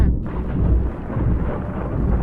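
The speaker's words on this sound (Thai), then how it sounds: "ในคืนนั้นเองมีฝนตกหนักฟ้าแลบฟ้าร้องขนองไปทั่ว" Deep thunder rolls loudly and continuously through a night of heavy rain and lightning, a dense low rumble with no voices.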